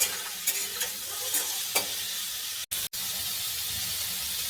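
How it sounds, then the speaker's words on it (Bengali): Boiled potatoes frying in a kadai of hot oil give a loud, steady sizzle with a few sharp spits and stirring scrapes, heard up close and alone. "এবার আমি আলুগুলোকে ভেজে নেব"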